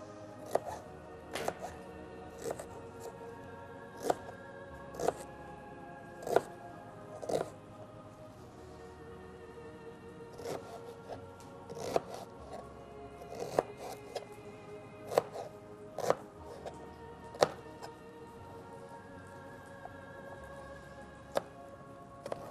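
A knife chops onion into small squares on a cutting board, with sharp, regular knocks in a steady rhythm, some crisp crunches between, close and clear with no talk.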